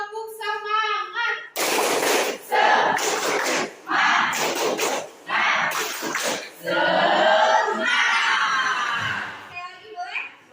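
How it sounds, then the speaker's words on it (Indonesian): A classroom of children performs the 'tepuk semangat' clapping chant, loud bursts of rhythmic claps mixed with shouted chanting in several quick groups, following a teacher's spoken lead. "Tepuk semangat."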